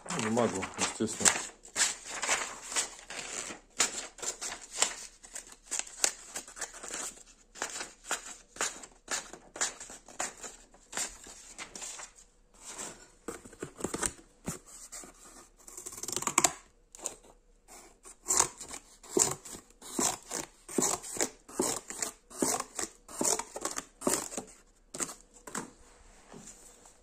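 Freshly sharpened scissors snip through paper in a long series of quick, crisp cuts, some in rapid bursts and others spaced out, close and fairly quiet, with occasional rustling of the sheet.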